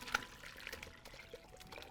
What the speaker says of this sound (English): I'm gonna try to pour this without dumping it all over the counter.